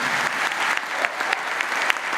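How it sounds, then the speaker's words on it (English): Steady, dense applause from a graduation ceremony crowd, with many hands clapping together continuously throughout. "I think that deserves another round of applause"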